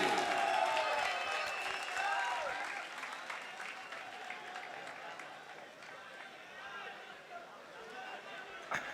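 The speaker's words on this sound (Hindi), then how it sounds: "भरपूर तालियों में इस्तकबाल कीजिए" A mushaira audience breaks into sustained applause as they welcome the poet Umair Najmi. The clapping is loudest at the start and slowly eases off, with crowd murmur and a voice speaking over it.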